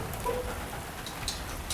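Rain falling outside an open garage in Florida, a steady close hiss of drops pattering on surfaces with a few brief higher taps, no voices.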